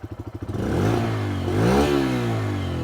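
Running on CNG, a Bajaj Freedom motorcycle's exhaust goes from a steady idle putter to higher revs, rising into a loud, close, sustained rasp that swells, dips, and holds.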